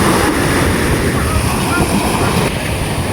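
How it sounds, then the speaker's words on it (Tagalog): Strong ocean waves at a shoreline where a wooden fishing boat is being launched, a loud, continuous roaring wash with heavy wind buffeting the microphone throughout. "Ayan, medyo malakas yung alon na."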